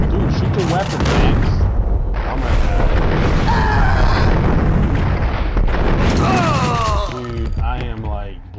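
Gunfire and explosive booms from the video game Max Payne, loud and dense bursts layered with shouting game voices and effects throughout, close and continuous.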